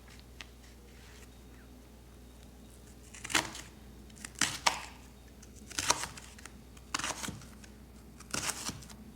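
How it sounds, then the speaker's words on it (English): A knife chopping onion on a board: a few crisp, separate cuts spaced a second or so apart, close and fairly quiet, no talking. "Now we cut it straight, and almost as if by magic, we'll get some beautiful little cubes."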